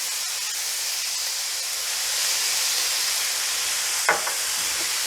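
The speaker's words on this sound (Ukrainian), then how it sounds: "М'ясо обсмажилось і додаю борошно." Meat and flour frying in a pan for a Ukrainian shpundra, a steady loud sizzling hiss up close, with a single scraping stir of a utensil near the end.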